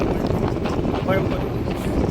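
Gusty wind buffets and roars across the microphone continuously, loud and rough, on the foggy hilltop at Kadamgiri temple near Palitana, with faint voices mixed in.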